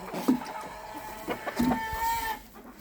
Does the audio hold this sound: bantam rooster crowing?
yes